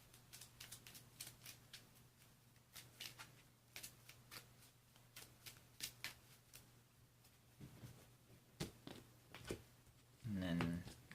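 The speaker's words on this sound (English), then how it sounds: "shuffle these cards back into the deck" Pokémon trading cards being shuffled back into a deck, giving a run of soft, crisp riffling snaps and flicks, with a louder burst of handling near the end, close up under faint background hum.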